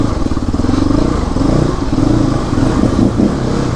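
Close, steady engine note of a CrossX300 motorcycle on the move, a continuous throbbing rumble with slight fluctuations and no breaks.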